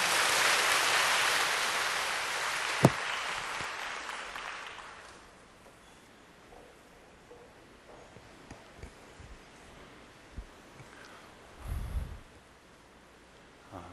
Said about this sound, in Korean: 장경철 목사님, 하나님께 큰 영광의 박수를 한번 환영하겠습니다.